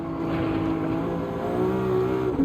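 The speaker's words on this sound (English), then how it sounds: "God, you could hear the tyres sliding." A Maserati MC20 engine in Gran Turismo 7 drones steadily on the Nürburgring, with a high whining pitch that slides and wavers as the tyres lose grip, no talking.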